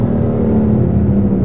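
Steady, close engine drone from a 2015 BMW M3 with a turbocharged straight-six, holding a constant low hum with a faint whir, no rev change and no voices.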